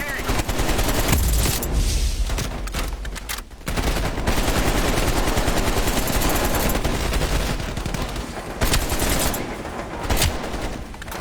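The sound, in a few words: gunfire in video game Black Ops Cold War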